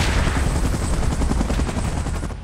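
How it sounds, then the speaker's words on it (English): A helicopter in the PUBG Mobile game, Last Stand Titan Strikes mode, gives a loud, continuous rotor chop with rapid pulsing thumps that stay close and steady before easing slightly at the end. "Chopper in position."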